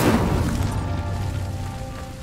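The Incendio fire spell lights a pyre in Hogwarts Legacy: a loud, deep whooshing boom of flame bursts at once and roars on, fading slowly over about two seconds with no talk.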